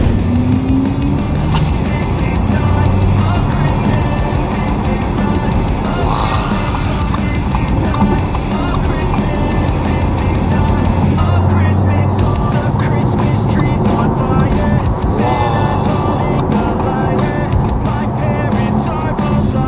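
An Audi e-tron GT electric sports car drives on the road, a steady whirring, rushing hum with a rising tone now and then. Someone talks over it.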